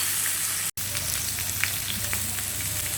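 Food sizzles steadily in a hot pan right after being turned, a dense continuous fry with a brief dropout near the start and scattered small pops throughout, close and alone without talk.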